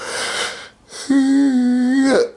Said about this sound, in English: damn, why am I yawning?